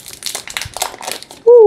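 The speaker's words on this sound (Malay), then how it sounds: "Buka dulu, buka plastik dulu." Plastic film is peeled off a new Red Magic 7S Pro gaming phone, making close, crinkly rustling in uneven bursts, then a loud steady tone sounds at the very end.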